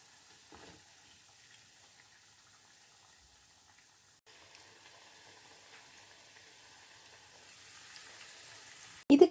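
Vegetable fritters made from leftover dosa batter deep-fry in oil, producing a faint, steady bubbling sizzle that ends in a sudden loud clatter.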